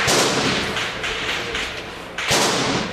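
Heavy, close explosive blasts during the May 2014 battle for the Donetsk airport: a loud thud opens, rumbling noise follows, then a second sharp burst hits near the end.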